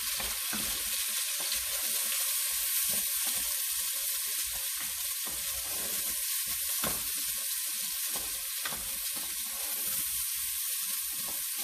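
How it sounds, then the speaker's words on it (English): Carrots, celery and onions sauté in a pot for dairy-free potato soup, a dense, even, close sizzle hissing without pause, broken only by faint occasional stirring taps, with nobody speaking. "we're just going to saute these a little bit"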